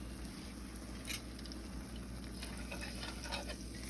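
Milk being whisked into gravy in a hot pan gives a steady, close sizzle and bubbling with a soft, continuous stirring texture and no talk.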